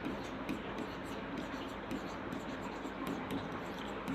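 Chalk or marker scratching across a classroom board during a Class 10 polynomial lesson, a faint, continuous scratchy rustle under a soft, low voice.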